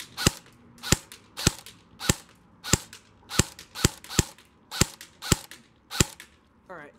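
A Lancer Tactical CQBQ airsoft gun test firing BBs, about a dozen sharp, snappy single shots at irregular intervals, close and distinct against a quiet background.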